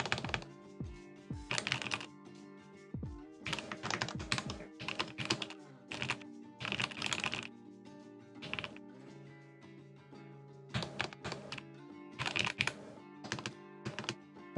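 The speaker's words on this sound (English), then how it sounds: "The spacebar sounds better now." Bursts of clacky keystrokes on a Matrix Labs Abel X mechanical keyboard come in quick clusters separated by short pauses, close and fairly quiet, with a few heavier spacebar thocks.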